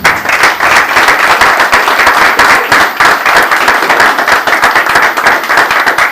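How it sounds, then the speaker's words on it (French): Dense, loud clapping from an auditorium crowd at the inauguration of a medical centre in Kinshasa, sustained and even for the full stretch with no break. "pour que cet auditoire puisse nous applaudir"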